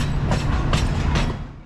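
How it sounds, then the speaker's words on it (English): Alishan Forest Railway train pushed by a small 750-horsepower diesel locomotive built in 2007, a close, heavy rolling rumble with clickety-clack wheel beats on the rails, lasting under two seconds. "Hauling, or rather pushing us today, is a small diesel locomotive built by the Taiwan Rolling Stock Company in 2007"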